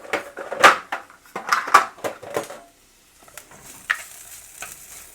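Whole cumin seeds hit hot frying oil for a potato curry, giving bursts of crackling sizzle and stirring clatter that fade to a quieter sizzle with a light tap near the end.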